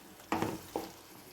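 Two short scraping stirs of a spoon through thick chicken curry in a pan, close by, with a faint sizzle and no talking.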